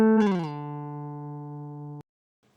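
Sampled plucked fall slide played in an OpenMPT tracker, ending a fifth below the starting note; a bright harmonic pluck glides down quickly, then sustains a steady tone for about two seconds before cutting off abruptly.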